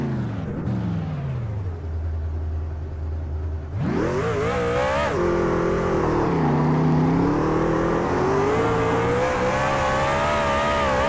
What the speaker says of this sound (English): he does his burnouts at the start-finish line here at the Kentucky Speedway